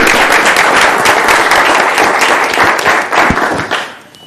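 Loud, close applause at a city council meeting honoring aldermen, a dense burst of many hands clapping that holds steady before tapering off near the end.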